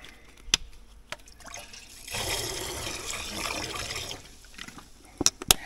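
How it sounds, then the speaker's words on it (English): Water pours steadily into a cooking pot for about two seconds, with splashing and trickling, then quieter drips and a few sharp clinks before and after, no talking. "Heaps of water in"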